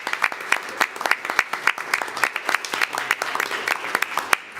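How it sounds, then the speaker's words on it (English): Audience applause fills a school board meeting room, a steady run of many hands clapping at close range that continues without pause from start to finish. "How about a round of applause for all those initiatives?"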